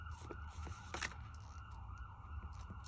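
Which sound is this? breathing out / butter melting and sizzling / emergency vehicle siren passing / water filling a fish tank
emergency vehicle siren passing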